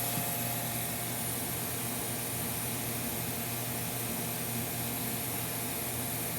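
A used Smart Seal Seamtek 36 rotary hot air sealer and welding machine runs with a steady, loud broadband blowing roar and a constant mechanical hum, unchanging throughout with no talk.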